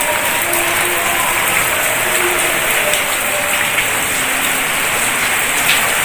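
Steady rain falls on a guava tree and the ground beneath it, a dense, even patter that holds at the same level throughout with no voices.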